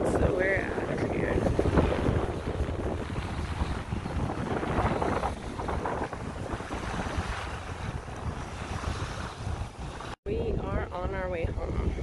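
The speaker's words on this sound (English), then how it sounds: "It's too dang windy." Strong gusting wind buffets the microphone at a lakeside campsite at Elephant Butte, a continuous roaring rush with the lap of water beneath, while people talk over it.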